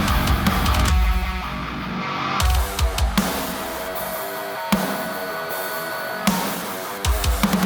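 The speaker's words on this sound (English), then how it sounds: "I'm just going to put those on every other one," Punchy snare effects land on every other beat of a dense, loud modern metalcore mix, with heavy distorted guitars and drums pounding steadily beneath them.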